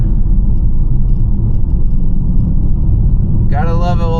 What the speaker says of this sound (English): gotta love an old V8 and a muscle car